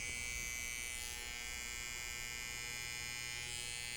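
Stylecraft Saber hair clippers with a brushless motor run steadily for four seconds, a continuous close, fairly quiet electric buzz with a high whine and no speech.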